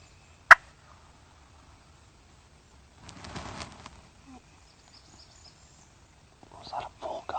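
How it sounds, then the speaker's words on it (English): A wild turkey gobbles in the distance during a turkey hunt: a couple of short, faint, rattling bursts rising out of quiet woods, with a sharp click just before. "Was that a full gobble or a jake"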